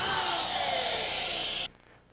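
A power drill whirs steadily while driving a screw into a sheet of drywall, loud and close with a slowly falling pitch, then cuts off abruptly near the end.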